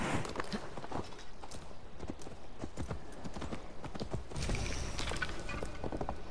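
Steady clip-clop of horse hooves trotting at a regular pace in Assassin's Creed Valhalla, close and fairly quiet, with faint mechanical clicks mixed in.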